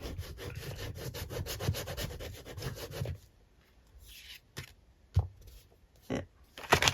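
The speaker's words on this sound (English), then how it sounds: "Give it a good old burnish. The glue stick is more likely to stick, so rub it on the back." Paper burnished by hand, rubbed firmly after a glue stick was applied to its back: a steady dense scraping rub for about three seconds, then a quiet gap broken by a few short, sharp rustles and taps.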